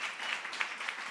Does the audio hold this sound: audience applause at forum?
yes